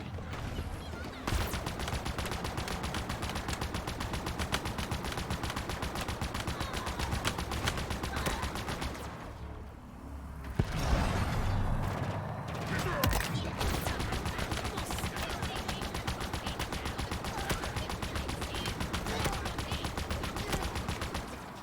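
Continuous automatic gunfire from the Halo Infinite video game, dense and loud with barely a break for about twenty seconds, dipping briefly midway before resuming at full intensity.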